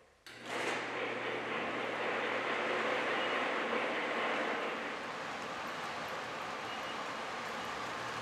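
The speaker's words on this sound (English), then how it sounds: "The train runs reliably with no derailments or unwanted uncoupling." An O-gauge model train runs along a game room display layout, a steady close rumble with broadband rolling noise that starts abruptly and holds at an even level, easing slightly toward the end, with no voices.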